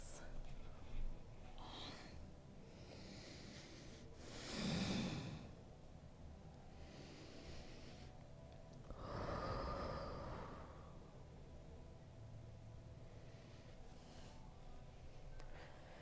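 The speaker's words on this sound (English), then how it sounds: "So let's take 2 more breaths." Slow, deep breaths during a live beginners' yoga class, faint and spaced apart, with long inhales and exhales rising and falling quietly under a softly speaking instructor.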